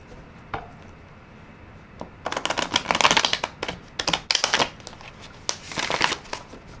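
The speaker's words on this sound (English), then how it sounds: "We'll cut the deck." Tarot deck shuffled and cut by hand, a dense run of crisp riffling card flutters in several bursts after a quiet start, close and fairly loud with no talking.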